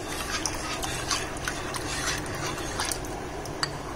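Custard powder mixture is stirred into milk, a soft continuous swishing with faint repeated scrapes of a utensil against the pan, fairly close and quiet.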